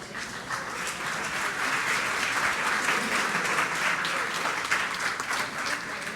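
A church congregation at Sunday Mass breaks into sustained applause, a steady wash of many hands clapping at moderate volume that holds evenly for several seconds.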